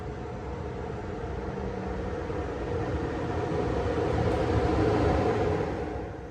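An Amtrak legacy passenger train set rumbles past slowly with a steady, broad rolling noise that swells and then eases off, no voices heard.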